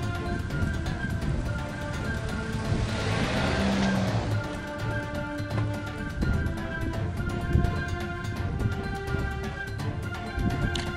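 A car drives close by on a road, its engine and tire noise rising to a broad swell and then settling into a steady rumble, fairly loud with no talk over it.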